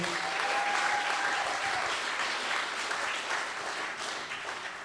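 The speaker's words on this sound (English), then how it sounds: "I'd love to give a massive round of applause to our second Team of the Year, Ferny Grove State High School." Sustained audience applause for the Ferny Grove State High School team at a student program grand final, a dense, steady wash of many hands clapping that stays loud throughout, fading slightly toward the end with no talk over it.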